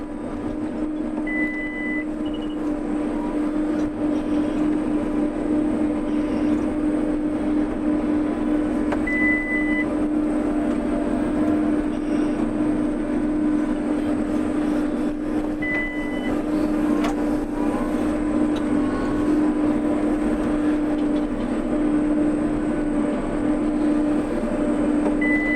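A JCB Fastrac 4220 tractor pulls a plough across a field with a steady, continuous drone that holds even and constant throughout, and no voices are heard.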